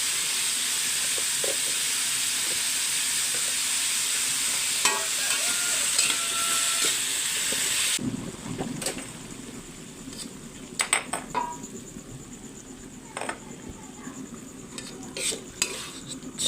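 Cucumber is stir-fried in a pan with white sugar and a little MSG, a bright, hissing sizzle that runs steadily before dropping away to quieter scraping and clinks of a utensil against the pan.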